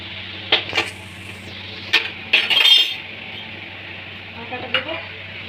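Flour dough being mixed by hand in a bowl with banana, sugar, dates, coconut, raisins and fennel seeds for Bengali banana puaa, giving soft sticky squelching and a few sharp clinks of utensils against the bowl.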